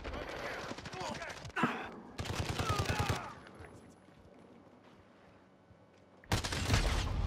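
A light machine gun fires in Call of Duty: Modern Warfare, loud and close, in three rapid bursts: a long opening volley, a second burst shortly after, and a final burst following a quieter pause.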